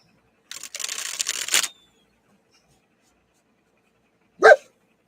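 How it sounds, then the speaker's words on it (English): After a stretch of rustling and shuffling, an indoor dog lets out one short, sharp bark, with no talking around it. "Sorry about the dog."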